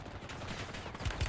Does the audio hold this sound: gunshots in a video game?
yes